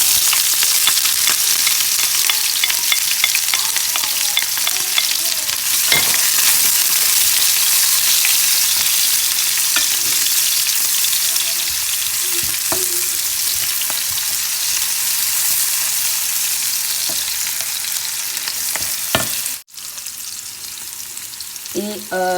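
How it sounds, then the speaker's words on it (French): Onions frying in hot oil in a home kitchen, a steady loud sizzle and crackle running throughout with occasional stirring, briefly dipping near the end. "Je vais commencer par faire revenir mes oignons."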